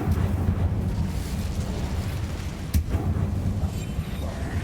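The Incendio fire spell in Hogwarts Legacy sends up a roaring, rumbling whoosh of flame that holds steady, with one sharp burst about midway and no voices over it.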